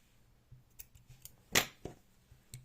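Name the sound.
cutting the yarn tail while crocheting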